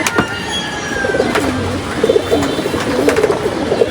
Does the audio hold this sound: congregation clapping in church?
no